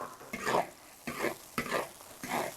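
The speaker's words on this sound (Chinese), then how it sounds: "油烧热倒肥肠" Pork intestines stir-fried in hot oil, close sizzling that swells in four distinct surges as they are tossed, with no talking.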